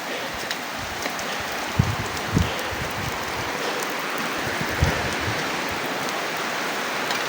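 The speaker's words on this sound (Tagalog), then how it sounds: "Sobrang lakas talaga ng ulan." Heavy rain pours down steadily in a dense, continuous hiss, with a few louder drops or thuds standing out close by.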